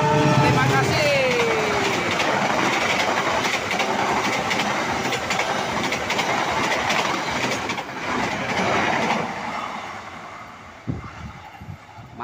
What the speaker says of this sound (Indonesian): Argo Wilis melintas di Petak Cimekar Gede Bage, tepatnya di Cimencrang, dengan berjalan langsung.